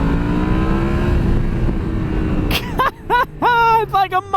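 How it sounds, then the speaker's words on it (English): A Yamaha MT-10 motorcycle with an SC Project exhaust roars under load, then drops off and blips through several quick downshifts, each a short, rising, loud engine rasp up close, with someone talking over it. "All I can tell you as I shift down is really nothing beats the sound of this motorcycle."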